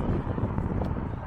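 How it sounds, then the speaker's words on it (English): Gusty wind buffeting the microphone on a cold day beside a marina lake near a water park in Southport, a steady low rumble that fills the short stretch with no talk. "It's bloody windy and cold."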